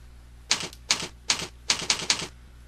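Keys are struck one by one while typing a username on a keyboard, a close series of about six crisp clacks in an uneven rhythm, with no voices.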